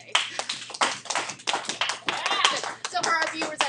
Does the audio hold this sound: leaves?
no